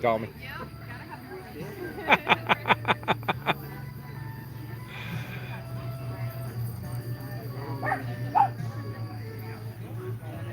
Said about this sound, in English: Little dogs.